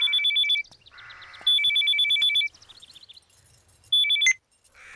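A telephone rings in repeated bursts of bright electronic trilling, three loud clear rings separated by pauses, with no voices over it.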